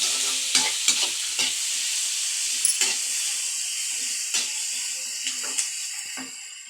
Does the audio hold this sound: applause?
no